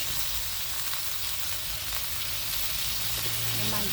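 Chicken stir-frying with chili paste, oyster sauce, fish sauce and seasoning sauce in a hot pan gives a steady, close sizzle throughout, with faint stirring scrapes toward the end.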